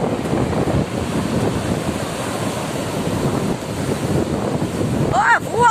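Sea waves wash over a flooded beach in a steady, rushing roar of surf mixed with wind buffeting the microphone, with a few brief high whistling chirps near the end.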